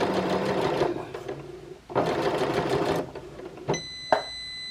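Domestic sewing machine stitching a dress top in two loud, steady bursts with a pause between, then stopping over a pin, followed by sharp clicks and a high electronic warning tone.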